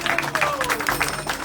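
An audience applauds at a tilak ceremony with dense, steady clapping, close and lively for the whole stretch, layered with a low background hum.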